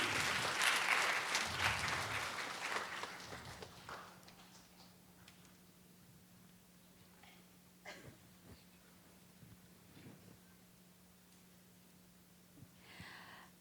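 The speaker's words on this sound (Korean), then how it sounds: "박수 부탁드립니다" Audience applause at an evening lecture in Korea, welcoming a pastor and a former footballer back to the stage; the clapping is fairly loud for the first few seconds, then thins out and fades to scattered claps and quiet room noise.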